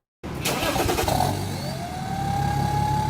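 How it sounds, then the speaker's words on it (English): VW group diesel engine revving hard, starting abruptly and holding a loud, steady roar with a rising turbo whistle building over it. "Oh, and those turbo noises!"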